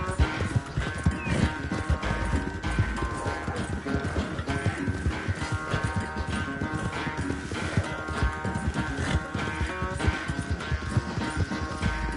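Horse hooves gallop in steady, rapid clip-clop throughout the race in Red Dead Redemption 2, mixed with a dense game soundtrack and effects, with an occasional whinny.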